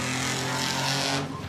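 A race vehicle running a twin-turbo Nissan Skyline engine, de-stroked to 3.5 litres, roars past at a desert race, a loud sustained engine note with a brief fading tail at the end.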